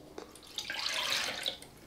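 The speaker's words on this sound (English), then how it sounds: "Pour that right into your bowl." Liquid marinade for beef jerky pours into a bowl in a short splashing stream that swells in the middle and then tapers off, with a few drips, heard close up and without voices.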